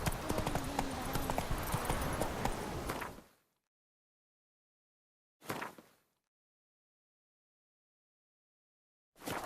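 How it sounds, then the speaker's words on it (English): Horse hooves clip-clop at a steady trot in The Witcher 3 video game, then stop abruptly, followed by two brief bursts of hoofbeats separated by silence. "Whoa there, Roach."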